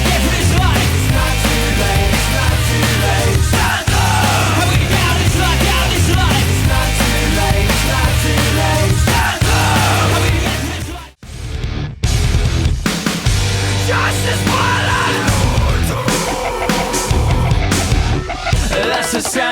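Loud post-hardcore music plays from a blue vinyl record, a dense, continuous full-band mix with heavy low end and a brief near-silent break midway before the wall of sound resumes.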